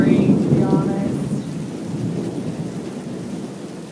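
Heavy rain pours steadily during a thunderstorm with possible hail, with a low rumble of thunder rolling through early on, fairly loud and continuous throughout.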